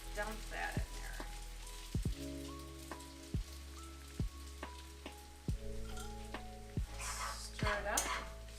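Noodles sizzle with garlic in a pan for sriracha noodles, a steady crackling hiss like rain, broken by several sharp metallic clinks of a utensil against the pan; no one speaks.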